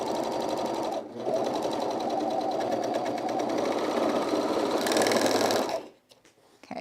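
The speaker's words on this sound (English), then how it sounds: "I'm going to secure my serger tails" A serger sewing machine stitches off thread tails on overalls, running in one steady, loud motorized whir for several seconds after a brief pause, then stopping abruptly.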